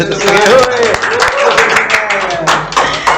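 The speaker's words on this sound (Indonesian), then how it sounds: "Kasih tepuk tangan dong ini." An audience claps in scattered bursts at a gathering about river microplastic pollution, with a voice talking over much of the applause.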